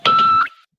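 A short electronic Star Trek–style hailing beep: a single steady tone lasting about half a second, loud and close, with a brief fading tail and no talk over it.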